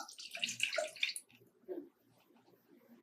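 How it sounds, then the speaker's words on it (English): One cup of water poured into a saucepan for karak chai, a short close splashing stream for about a second, then a brief gurgle and fading drips. "In a saucepan, add 1 cup of water"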